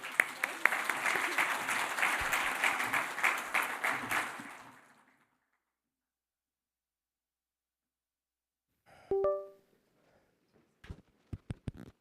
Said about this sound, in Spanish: Por favor, los recibimos con un fuerte aplauso.